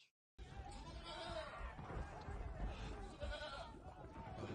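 A dairy goat bleats in a scene from the TV series Black Sails, a few wavering cries set among busy background voices and other scene noise at moderate level.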